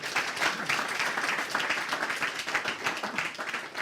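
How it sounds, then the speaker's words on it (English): An audience applauds steadily for a few seconds, a dense even patter of many hands clapping at moderate distance, with no voices over it. "Give him a clap."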